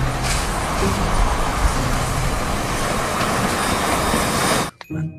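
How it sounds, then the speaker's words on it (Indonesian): Toy Thomas train running steadily with a dense rumbling, rattling clatter that fills the whole clip at close range, then cuts off abruptly near the end, leaving near silence. "Wah, kereta Thomas."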